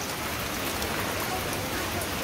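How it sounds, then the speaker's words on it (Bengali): Heavy rain pours steadily over a Bangladeshi village during the rainy season, a dense, continuous hiss close by and unbroken throughout. "তো দেখেন কি বৃষ্টির অবস্থা।"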